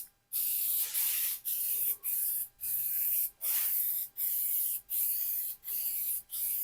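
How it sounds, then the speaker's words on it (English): An aerosol can of SEM Trim Black coating sprays onto plastic trim in about nine steady hissing bursts, each a half-second to a second long, separated by brief gaps, close and loud with no talk. "I'm just gonna spray this Sims on here. Not heavy, just put a medium coat on there."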